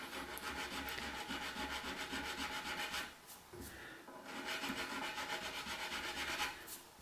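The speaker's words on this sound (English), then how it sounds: "I'm just going to take a little sanding block." Steady back-and-forth rasping of a sanding block on an Epiphone Firebird guitar body being stripped, rhythmic strokes continuing with a brief pause midway, close and fairly quiet.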